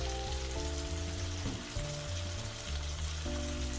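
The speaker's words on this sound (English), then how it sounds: "So I'm going to add my mackerel and tomato sauce." Tinned mackerel in tomato sauce goes into a hot pot and sizzles loudly and steadily, heard close up alongside a sustained tonal background sound.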